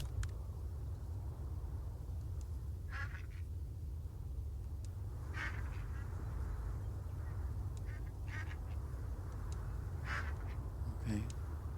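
Repeated short duck quacks from the farming video game Farm Together 2, several separate calls spread through the clip over a steady low background hum, with a voice speaking at times.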